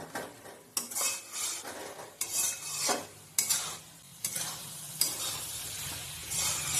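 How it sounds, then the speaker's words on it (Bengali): Chicken and vegetables sizzle in a pan seasoned with soy sauce while a utensil scrapes and clatters against it in irregular bursts of stirring, close and fairly loud. "মাংস আর সবজি সব এবার ভালো করে একটু ভাজা ভাজা করে নেব।"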